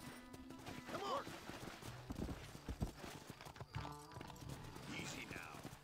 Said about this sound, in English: But look at my new horse, my platinum horse.